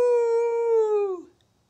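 A person imitates a wolf howl in one sustained, clear, voiced tone that holds steady and then slides downward and fades, heard close with no other sound around it.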